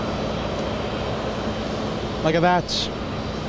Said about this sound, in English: JetBlue, that's an LA flight, taxiing very slow.